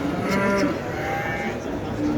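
Dairy goats at a livestock market bleat in a busy pen, several animals calling close by over a crowded background murmur.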